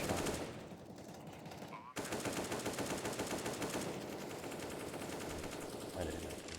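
Rapid gunfire in a first-person shooter video game, sustained dense bursts running almost the whole time at a fairly steady level, with a brief break partway through.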